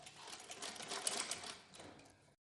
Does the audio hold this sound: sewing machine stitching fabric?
yes